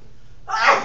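A single short sneeze bursts out near the end after a quiet moment, brief and fairly close, in a classroom during a math test review.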